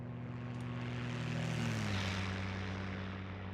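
Steady, loud propeller drone of a P-51 Mustang engine in the IL-2 Sturmovik flight sim, with a pitch shift midway as the mixture is leaned, running continuously and close throughout with no talk.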